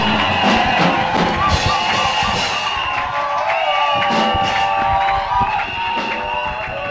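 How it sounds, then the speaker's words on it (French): A crowd at a church revival service cheers and shouts in sustained, loud applause that fills the room, while an amplified voice speaks over the noise. "sous vos ovations, sous vos acclamations"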